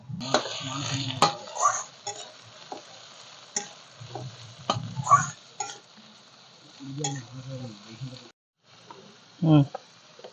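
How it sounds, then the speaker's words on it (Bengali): Ginger and garlic are added to browned onions frying in a pan, giving soft intermittent sizzling and a few utensil clinks and stirring scrapes at close range, with stretches of near quiet between. "এবার দিয়ে দিচ্ছি আদা রসুন আদা রসুনটাকে একদম ভালো করে ভাজতে হবে"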